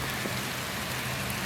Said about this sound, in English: Can you hear the rain happening behind this window right now?